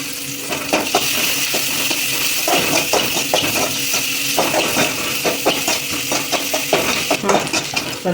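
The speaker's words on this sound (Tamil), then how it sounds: "வெங்காயம் நல்லா பொன்னரமாக இதை வதக்கி வச்சுக்கலாம்" Onions being sautéed and stirred in a pan with a little salt: close, busy clatter of a metal spoon scraping and knocking against the pan over a low sizzle, irregular strokes throughout.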